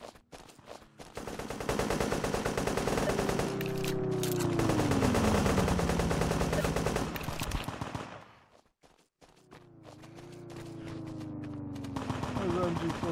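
Rapid automatic bursts from a Sten submachine gun fire in the World War II shooter game Honor and Duty D-Day, two long, loud strings of shots broken by a brief lull, with voices talking over the gunfire.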